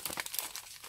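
A piece of paper is handled and crinkled up close, a brief run of soft rustles and crackles with no talking.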